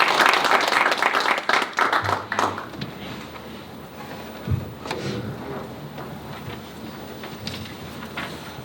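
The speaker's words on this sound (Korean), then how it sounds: "큰 박수로 강사님 맞이해주시면 감사하겠습니다" An audience at an agricultural college entrance-ceremony lecture in Cheongyang gives a warm round of applause to welcome the lecturer; dense clapping for a couple of seconds, then thinning into scattered claps and room noise.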